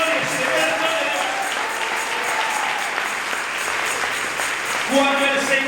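A church congregation claps together in sustained applause, with a voice speaking over it near the end.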